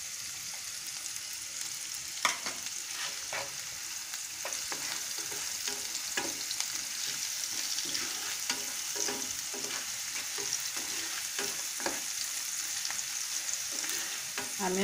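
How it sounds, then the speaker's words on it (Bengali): Onion frying lightly in a pan with salt, a steady broadband sizzle with repeated stirring scrapes and clicks throughout, close and continuous with no talking. "আমি এখন পেঁয়াজটাকে একটু হালকা ভেজে নিব।"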